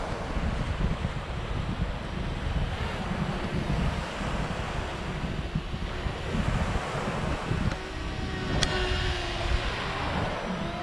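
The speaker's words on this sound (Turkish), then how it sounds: "Şu anda bayağı bir rüzgar var." Strong outdoor wind roars and buffets the microphone steadily, with gusts rising and falling and a faint high whine briefly audible near the end, with no voices.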